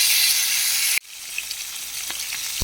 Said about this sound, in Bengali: উল্টো পিঠ ভাজার জন্য এগুলো উল্টে দেবো।